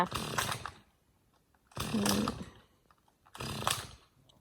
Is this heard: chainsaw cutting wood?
yes